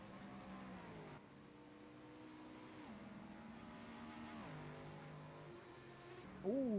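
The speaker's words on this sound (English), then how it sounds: "Ali Ferry comes into the pits from 14th in class in number 45 Reelish Racing LMP2 car" An LMP2 prototype race car in a racing video game slows to enter the pits, its engine note steady then dropping through downshifts, followed by a sharp rising rev near the end.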